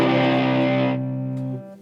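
An electric guitar played through a cheap Temu distortion pedal rings out a single heavily distorted chord that sustains and then cuts off, with no talking.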